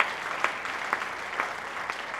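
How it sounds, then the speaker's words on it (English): Applause from an audience welcoming new staff at a training session: steady, moderate clapping from a group over about two seconds, with a few sharper claps standing out and no talk over it. "everyone give all of our new people a big round of applause."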